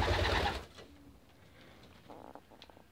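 Pigeons in a loft coo softly after a brief rustling burst, the calls faint and scattered against a quiet indoor background.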